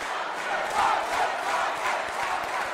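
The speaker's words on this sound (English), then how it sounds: "Crowd getting behind Hunter Drake" Wrestling crowd at a live event in Denver cheering for a wrestler, a steady, loud roar of massed voices with rising shouts and yells throughout.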